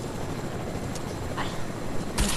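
A helicopter in a video game gives off a steady whirring rotor drone that holds at an even, moderate level for the whole stretch, with a brief burst of hiss near the end.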